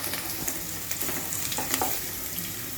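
Carrot frying with onions in a pan, a steady close sizzle with light stirring scrapes and a few spatula knocks, no voices.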